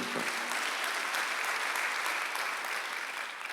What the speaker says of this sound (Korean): 믿는 사람만 박수 한번 해주세요